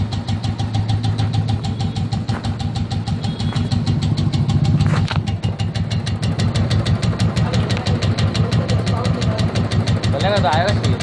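A Royal Enfield motorcycle engine idles steadily with an abnormal rapid ticking running through its even mid-pitched beat, heard close and continuous throughout.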